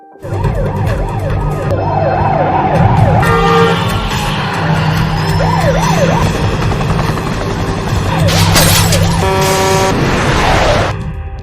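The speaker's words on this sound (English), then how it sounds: "film begins with a man named Michael Woods, who is being chased by police cars." Wailing police sirens rise and fall loudly over rumbling engines and a helicopter's thrum, a busy chase soundscape with overlapping siren tones.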